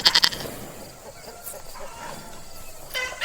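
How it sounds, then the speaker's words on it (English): A goat bleats in a quick, wavering burst right at the start, then fades to quiet farmyard background with a faint second call near the end. "Goat."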